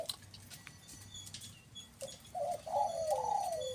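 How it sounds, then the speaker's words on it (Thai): A dove coos softly in a short run of low, hollow notes, faint against quiet background rustling, with a few small clicks beforehand. "นกทุกตัวเป็นนกกุกเดียวด้วยพี่น้องกุกเดียว หนึ่งกุกเสียงกลางครับผม"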